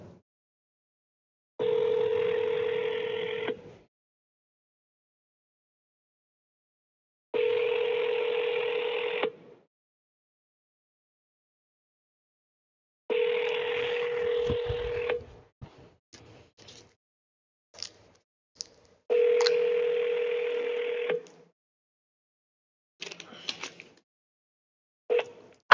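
An outgoing phone call rings back in repeated evenly spaced tones with silent gaps between them, followed by short clicks and a final ring burst. The tones are loud and clear, and no one speaks.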